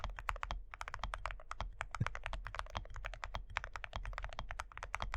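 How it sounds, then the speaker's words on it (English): Fast, steady typing on a computer keyboard with a bright, poppy tone, dense clicking keystrokes heard up close and alone, with no talk. "I like this, like, keyboard sound profile a lot because it's just a poppy sound to it."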